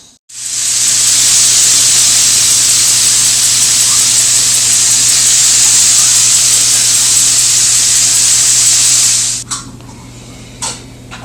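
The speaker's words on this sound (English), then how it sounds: "Then we're going to cut up the pork sausage and cook that." Cut pork sausage cooking in a hot pan, a loud, even sizzling hiss that holds for about nine seconds, then stops abruptly, followed by a few faint clicks.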